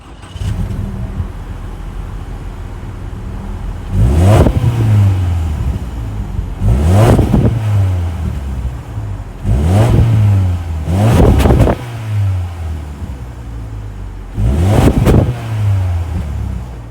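Higher-output 2.5-liter boxer four-cylinder engine of a 2024 Subaru Impreza RS revving up repeatedly, with about five sharp throttle blips that rise and fall over a steady idle, loud and close, with no talking.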